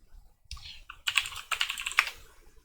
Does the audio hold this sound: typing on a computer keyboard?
yes